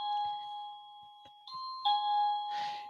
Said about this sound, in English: I was rewarded with a fabulously loud and annoying doorbell sound